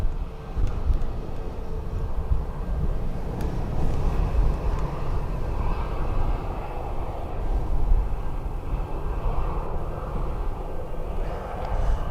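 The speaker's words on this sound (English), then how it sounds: "this should be a better example now with the Ryanair departing right in front of us" A Ryanair airliner departs Dublin Airport, its jet engines producing a steady, broad roar that holds at a fairly even level throughout, heard from a distance outdoors.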